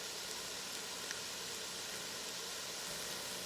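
Frozen Aldi chicken lo mein sizzles steadily in a pan, a continuous bright frying hiss with no talking over it.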